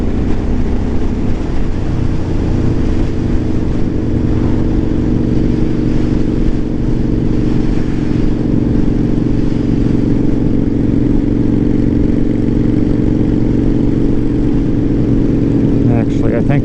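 Kawasaki Boulevard motorcycle engine holding a steady, loud drone while cruising at around 80 km/h on an open road, continuous throughout with wind rush and no clear pauses.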